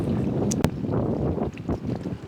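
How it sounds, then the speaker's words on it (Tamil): Wind blowing at the seaside, a steady broadband rushing roar buffeting the microphone throughout, with a couple of brief sharp knocks near the start and no talking. "காத்து தான் பிரச்சனை."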